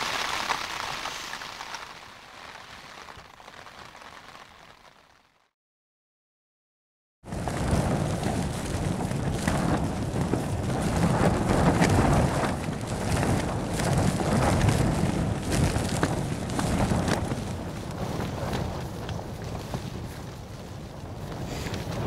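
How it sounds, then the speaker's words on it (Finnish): Loud wind buffets the microphone after a brief dropout to silence, gusting steadily with a rough, rushing texture and no voices, outdoors in the Käsivarsi wilderness of Finnish Lapland. "tuuli on aivan järkyttävä"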